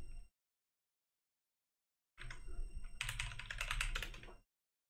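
Brief burst of typing on a computer keyboard, rapid close clicks lasting about two seconds after a short silence, quiet and with no talking.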